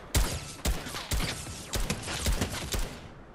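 Gunfire in the Fortnite battle royale game comes as a string of sharp, evenly spaced shots, about seven cracks in a steady rhythm, fairly close and clear with no talking.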